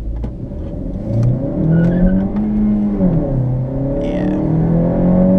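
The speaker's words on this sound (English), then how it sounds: "It definitely has rev hang." A 2017 Honda Civic Hatch Sport with a manual gearbox revs up while driving, its engine tone rising and falling with slow, lingering drops between shifts, loud and close throughout, with a brief spoken word.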